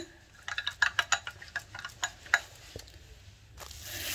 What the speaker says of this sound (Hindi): आधे लीमू का रस शामिल करेंगे और इसको अच्छे से मिक्स कर लेंगे